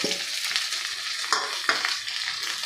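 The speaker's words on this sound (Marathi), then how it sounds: "आता हे आपल्याला सोनेरी रंगावर परतून घ्यायचे आहे" Three large onions, sliced thin, sauté in a hot pan with a steady sizzle, broken by a few scraping stirs of a spatula. The frying is close up and no one speaks.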